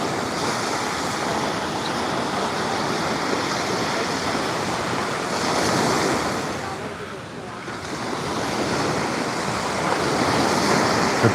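Ocean surf rolling onto a beach at Marco Island, a steady broad wash of breaking waves with wind buffeting the microphone, briefly easing in the middle before swelling again.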